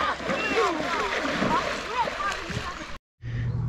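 Seven boys splash and swim in a lake at a fishing camp, a busy, continuous wash of water agitation with shouting voices over it, cut off abruptly near the end before a short burst of low hum.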